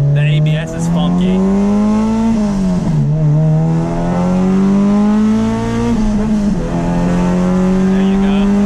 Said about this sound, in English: Okay, this car is fucking quick, dude.